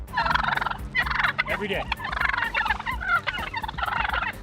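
A flock of wild turkeys gobbles loudly and repeatedly in rapid, overlapping bursts while chasing a mailman on his rounds, close by outdoors, with a brief spoken phrase among the calls.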